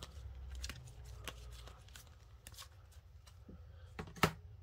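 Sports and racing trading cards handled at close range, with soft scattered flicks, rustles and slides against a quiet background, plus one sharper snap near the end.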